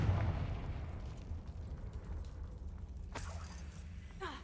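Confringo, an explosive spell in the game Hogwarts Legacy, bursts with a fairly quiet, rumbling blast and crackle over a low game background, with a sharper hit in the second half.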